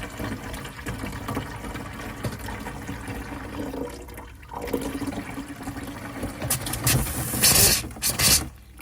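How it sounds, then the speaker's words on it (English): Hot tap on an Alde heating system spluttering as the hot water tank fills and pushes air out, with irregular bursts of air and splashing water growing louder and more broken toward the end. "You might get a bit more splatter on this one."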